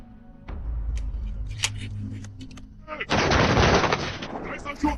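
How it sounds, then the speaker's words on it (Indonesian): Rifle fire during soldier training in a film scene, several sharp reports and clicks followed by a loud sustained burst of gunfire, close and dense, with faint voices underneath. "saat Nathan melatih tentara kaisar menembak"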